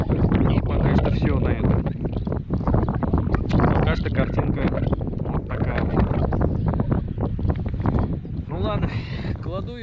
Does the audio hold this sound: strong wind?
yes